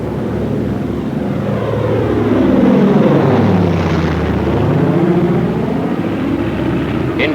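Douglas A-20 bomber diving, its propeller engines roaring loud and steady with a rising and falling pitch sweep as the aircraft passes through the dive, no voices.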